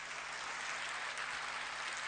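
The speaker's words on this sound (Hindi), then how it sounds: "आपकी तालियां बहुत कमजोर है इस गीत के लिए" Audience applause at a poetry recitation on a community radio station's annual day function, a steady dense wash of clapping throughout, moderately loud and without speech.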